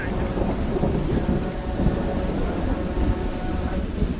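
Thunder rumbling during a rainstorm beside the Zambezi River in Zambia, a dense, loud, continuous low roar mixed with rain noise throughout.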